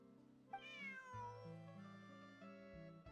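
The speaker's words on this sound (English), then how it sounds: "Meow." A cat meows in the Genshin Impact video game, one long drawn-out meow clearly heard over soft background music.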